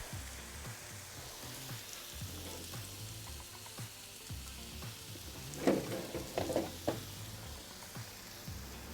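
Hoagie rolls toast on a Blackstone griddle with a steady low sizzle, a few louder crackling bursts and scraping near the middle, close and without talk.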